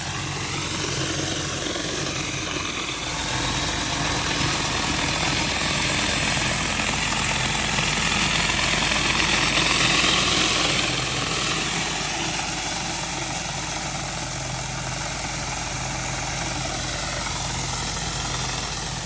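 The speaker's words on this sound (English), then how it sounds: "So we're probably gonna try to carry on with the surface cleaner here." Pressure washer surface cleaner working an asphalt driveway, a steady, loud, broadband whooshing roar with a low engine drone underneath, continuous for the whole stretch and no talking.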